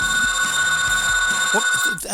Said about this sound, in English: That phone's not supposed to ring now.